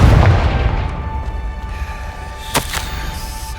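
The Confringo fire spell in Hogwarts Legacy bursts with a loud, deep boom that decays into a rumbling tail, followed by a sharp crack about two seconds later.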